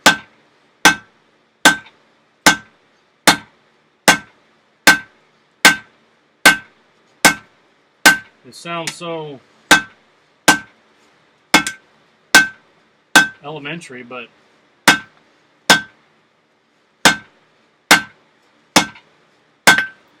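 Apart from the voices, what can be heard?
hammering metal at a blacksmith forge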